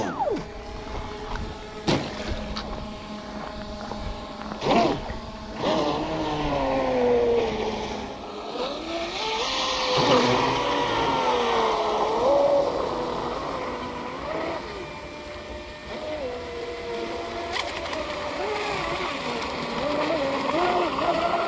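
Joysway Infinity and Deep V radio-controlled boats race across open water, their electric motors whining loudly and shifting pitch as they speed along a straightaway, with splashing and someone talking over the run.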